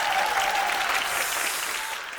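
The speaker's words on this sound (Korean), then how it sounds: "박수 소리 한번 들어보고." Audience applause fills a concert hall after a Gwacheon city youth choir performance, a loud, dense, steady clapping that holds for the whole stretch and tapers only slightly at the end, with no talking.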